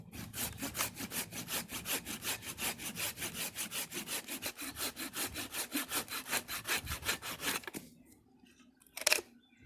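Hand saw cutting through resinous fatwood from a dead pine stump in rapid, rhythmic back-and-forth strokes, close and crisp for about eight seconds, then a quiet pause broken by one brief knock.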